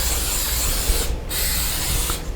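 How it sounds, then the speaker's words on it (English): Vegeline cooking spray hisses out of an aerosol can onto a casserole dish in loud, close bursts, with one brief pause before the spray resumes. "We're going to spray our casserole dish with Vegeline."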